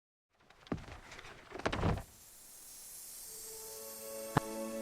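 Magic door in the ground creaking and hissing open with a few rough scraping bursts, then a shimmering sustained tone and a single bright chime, fairly faint and with no voices.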